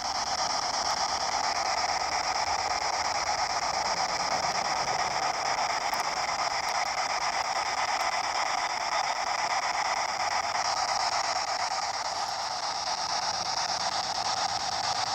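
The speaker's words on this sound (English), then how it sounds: "pure white noise" Steady hissing static from a radio sweep device fills the air in an abandoned cemetery, a constant wash of white noise with a faint tonal hum running through it and no voices.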